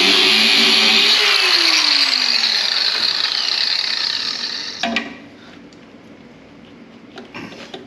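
A power tool cuts a battery access hole into the side of a Takeuchi TL12 track loader, a loud, steady, harsh grinding whine that stops after about five seconds, leaving faint clicks and shuffling.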